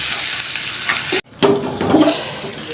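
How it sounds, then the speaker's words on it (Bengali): Tomato sizzles and is stirred in a hot pan for a fish curry, a bright hiss of frying with a brief pause, then renewed sizzling and scraping close by. "টমেটোটা একটু ভাজা ভাজা করে দিই"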